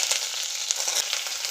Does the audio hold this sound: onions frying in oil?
yes